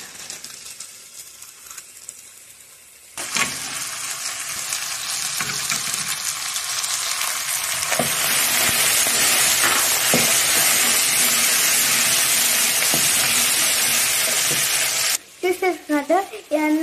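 Cashews and vegetables hit a hot oiled pan and start sizzling loudly, a hiss that grows denser with occasional stirring clinks, then briefly cuts out before someone speaks over renewed frying.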